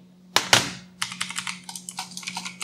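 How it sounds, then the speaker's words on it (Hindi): Rapid clicky keystrokes on a full-size Redgear Shadow Amulet mechanical gaming keyboard with blue switches, close and crisp, following two loud thumps at the start. "नॉइजी है तो मैकेनिकल कीबोर्ड में साउंड तो होता ही है, ब्लू स्विच में इसकी तो आदत हो ही गई होगी आपको"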